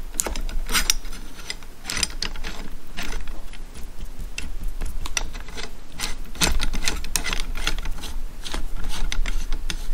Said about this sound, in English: And then you start tightening down the other part and compressing your lock plate.